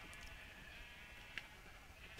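Sheep bleating in the Minecraft video game, a quiet, steady bleat sound standing alone against low background noise, with one brief click partway through.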